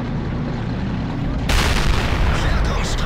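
A German tank destroyer's gun in World of Tanks fires one long-range shot: a sudden loud, broad boom cuts in over steady engine rumble and rolls on without fading.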